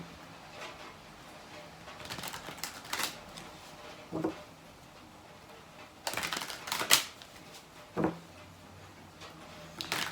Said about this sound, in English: So we're just going to go ahead and shuffle the cards.